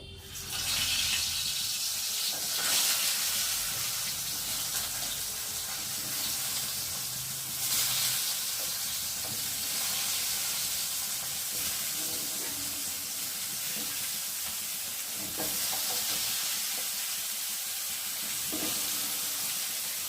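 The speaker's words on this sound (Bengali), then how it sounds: "চলো আমি এখন একে একে পটলগুলোকে দিয়ে ভেজে নেবো" Pieces of pointed gourd (potol) frying in hot oil in a home kitchen, giving a loud, dense, unbroken sizzle that fills the whole stretch, with occasional brief surges and faint kitchen clatter.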